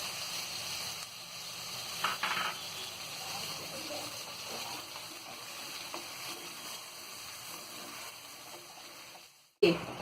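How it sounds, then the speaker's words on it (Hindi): Mutton koftas fry with ground coconut, poppy seeds and garam masala in a pan, giving a steady, moderate sizzle with a few soft stirring scrapes and a brief clatter near the end. "अब इसी में हम ये पिसा हुआ नारियल, खसखस, गरम मसाला सब इसी में डाल के इसे फ्राई कर लेंगे।"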